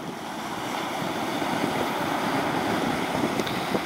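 Sea waves wash and churn around a small boat out on open sea, a dense, steady rushing roar mixed with wind buffeting the microphone and no voices.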